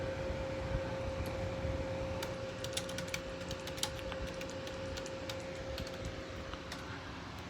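Fingers type on a computer keyboard in quick, irregular bursts of soft clicks, fairly close, over a low background hum.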